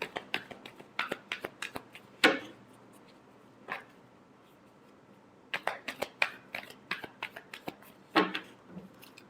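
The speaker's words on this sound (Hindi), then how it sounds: "last shuffle" Tarot cards being shuffled by hand, giving two bursts of quick, crisp riffling taps with short pauses between, close and fairly quiet, with no talking.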